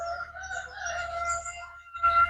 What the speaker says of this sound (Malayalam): അങ്ങനെ കോഴിയമ്മയും കുട്ടിയും വന്നിട്ടുണ്ട്.